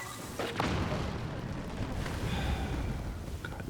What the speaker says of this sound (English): They heard an explosion and are like, what was that?